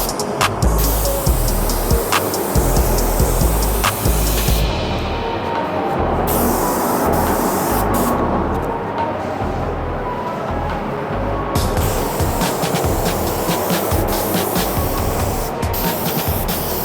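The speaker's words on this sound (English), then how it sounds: "we're now going to spray paint our set of wardrobe doors" Spray gun painting a set of fitted wardrobe doors in Little Greene slaked lime, a steady loud hiss running almost continuously with short pauses and small bursts between passes.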